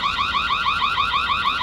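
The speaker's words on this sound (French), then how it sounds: "On pourra aussi lancer une alerte directement grâce au haut-parleur de la caméra." A Reolink security camera's built-in speaker blares a loud electronic alarm siren, a rapid warbling pulse that repeats steadily and fills the whole stretch, close and harsh.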